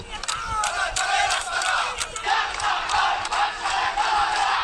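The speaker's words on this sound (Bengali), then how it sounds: "মুখোমুখি অবস্থান নিয়ে পাল্টাপাল্টি স্লোগান দিতে থাকে দুপক্ষ" Rival student groups at Dhaka University chanting opposing slogans, a loud, dense crowd of shouting voices in rhythmic bursts that continue without pause.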